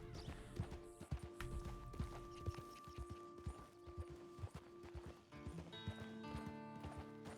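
A horse in a role-play video game clip-clops downhill with uneven, stumbling hoofbeats, irregular thuds under a droning background tone, fairly close and moderately loud.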